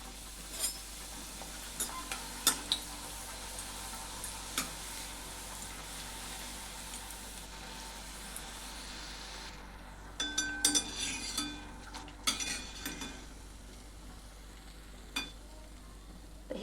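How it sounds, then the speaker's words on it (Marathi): Spicy puris deep-frying in hot oil, a steady low sizzle running throughout, with sharper bursts of bubbling and a few clinks of a utensil toward the end. "तर आपण आता पुऱ्या सोडूया तेलामध्ये"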